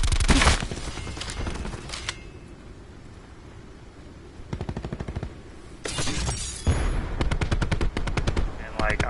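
A silenced MX9 fires in Black Ops 4 gameplay, rapid bursts of suppressed shots with clattering impacts, separated by quieter stretches of game ambience.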